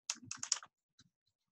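Typing on a computer keyboard: a rapid run of close, crisp key clicks for about half a second, then a single later tap and silence.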